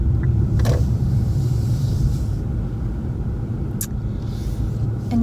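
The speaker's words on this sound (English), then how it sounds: "I am gonna park on this aisle." A car rolls slowly through a parking lot while being parked, giving a steady low engine and road rumble with a couple of faint clicks and ticks over it.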